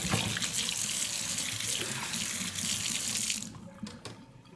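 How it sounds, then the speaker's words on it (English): Hot water gushes steadily from a tap into a sink, a full, close rushing flow that cuts off near the end, leaving faint drips and clinks. "I'm going to run some hot water in here real quick"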